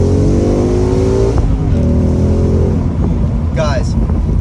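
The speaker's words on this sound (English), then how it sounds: "see how this car can accelerate off the line" A 2016 Mustang GT Premium Performance Pack with 6-speed manual revs loudly and rises in pitch as it accelerates hard off the line nearby, the roar steady and dominant throughout.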